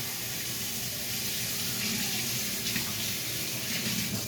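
Liquid poured through a small kitchen strainer during home dinner cooking, a steady continuous splashing stream at moderate distance, running evenly throughout without talk.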